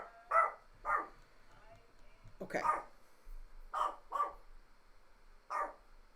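A dog barks six times in separated, fairly close woofs, some in quick pairs, against a quiet indoor background, and a person speaks briefly between the barks.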